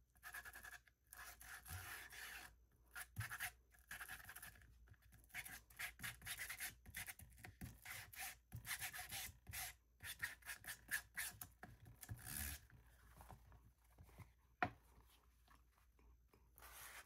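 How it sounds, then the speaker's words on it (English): Electric sander roughing up a journal page for a grungy mixed-media look, a continuous faint scratchy rubbing with rapid uneven strokes and brief pauses, close and alone. "Use one of my sanders. And let's just grunge this up a little bit."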